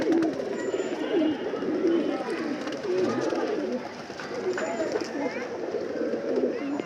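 Pet pigeons cooing in a loose, steady chorus as they are released after a long confinement, with someone talking over the birds throughout.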